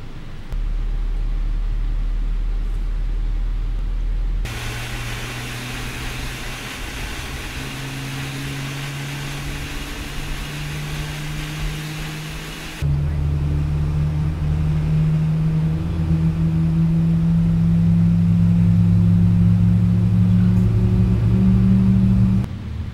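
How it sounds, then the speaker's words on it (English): A Boeing 777-300ER jet engine spools up in Microsoft Flight Simulator, a loud rising whine and rumble that steps up sharply midway and keeps climbing in pitch to a sustained roar, with no talking. "Starting up engine 2."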